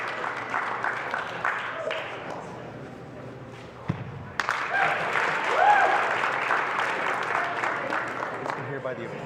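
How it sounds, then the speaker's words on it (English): Crowd applause and cheering at the CombatCon 2025 finals competition, with steady clapping interrupted by a sharp thud before building again, and voices mixed in. "As you can hear by the applause"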